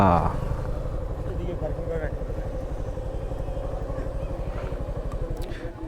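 Several motorcycles idle and rumble at an army checkpoint on a hill road where many bikers have gathered, giving a continuous mid-pitched engine drone with a pulsing throb, close by.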